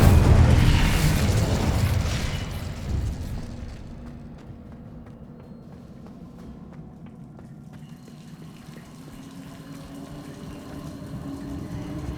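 Confringo and Incendio spell blasts in Hogwarts Legacy combat, a loud booming burst with a rushing roar at the start that fades over a few seconds into a quieter hum, then a low rumble returns.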